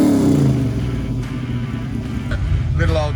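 A 550 hp Holden SS Torana hatchback with a 3-inch exhaust idles with a loud, lumpy low rumble. Brief bursts of talk come through over the engine.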